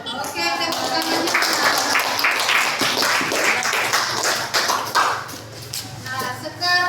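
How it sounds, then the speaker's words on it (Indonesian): An audience claps after a classroom presentation, steady dense applause of many hands, close and fairly loud, easing slightly near the end, with voices mixed in. "Oke, tepuk tangannya."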